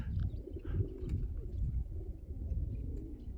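Pigeons coo in a low, continuous murmur close by, a steady soft throaty rumble with a few brighter chirps above it and no talking.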